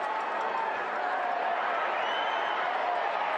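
A stadium crowd at a Tampa Bay Rowdies versus North Carolina FC soccer match keeps up a steady, dense roar of murmuring voices throughout, with no single caller standing out.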